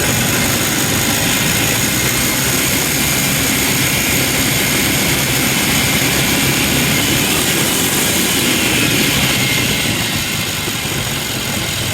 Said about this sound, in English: Now I'm going to rev the engine up.